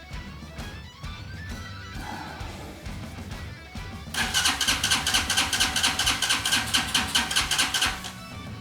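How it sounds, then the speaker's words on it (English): A Hawk 250 motorcycle engine cranks with choke and catches, then settles into a loud, fast, steady idle with a rapid pulsing rhythm, close by. "let's see if it wants to start up."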